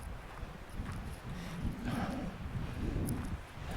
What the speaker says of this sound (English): I just hope that wind stops eventually